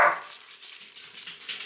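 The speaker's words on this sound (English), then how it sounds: "a barking dog, which I wish would stop" A dog gives one sharp bark right at the start, fairly close, then only a faint, noisy kitchen background follows where chicken thighs are cooking in an air fryer.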